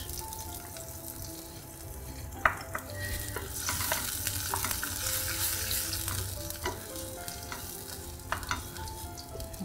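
Pizza sauce with garlic, onion powder and thyme cooks down in a pan, bubbling and sizzling steadily at close range while a spoon occasionally knocks and scrapes through it.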